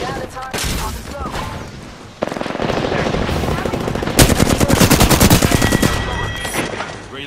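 Automatic gunfire in an Apex-style battle royale video game: rapid bursts crackle close and loud, building into dense, sustained rattling volleys near the end.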